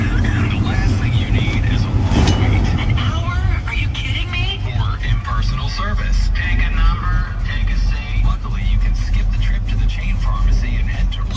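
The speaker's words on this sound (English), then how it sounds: "It's idle on about 750-800 RPMs." A restored 1972 Chevrolet K10 Custom Deluxe short-bed 4x4 truck engine idles cold with the choke off, a steady low rumble running continuously beneath someone talking nearby.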